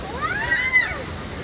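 Vera Falls, a mountain waterfall, rushing as a steady wash of water some distance off on a hiking trail, with faint chatter and a bird-like whistle over it.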